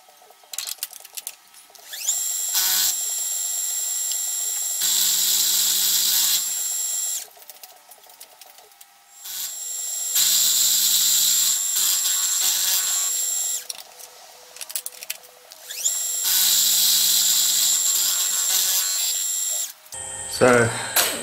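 A milling machine cuts a metal block for a Stuart Turner No. 8 mill engine in several sustained high-pitched whining passes separated by pauses, close and loud, with quieter spindle hum and clicks between the cuts.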